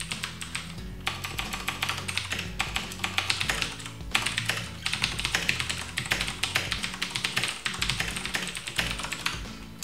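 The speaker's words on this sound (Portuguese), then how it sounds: "Uma coisa que às vezes é interessante saber é quanto de ruído que esse teclado produz." Rapid typing on an ASUS Strix Tactic Pro mechanical keyboard, a dense stream of clicky keystrokes close up with brief pauses between bursts, no speech.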